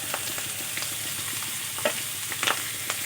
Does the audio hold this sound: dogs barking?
no